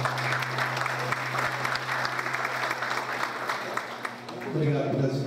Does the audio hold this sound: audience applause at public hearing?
yes